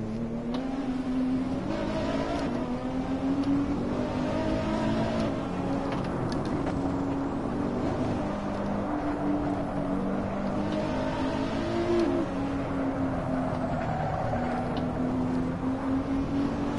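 Car engine in the Assetto Corsa racing game on PS4, a continuous high revving drone that rises and falls as the car holds a four-wheel drift through a corner, steady and close throughout.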